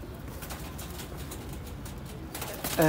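Sialkoti pigeons coo softly in low, repeated pulses against faint background hiss, with a louder burst of sound at the very end.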